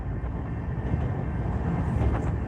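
Train rolling through the small town of Didsbury, Canada, a steady low rumble of rail traffic heard close and continuous, with no horn blast standing out in this short stretch.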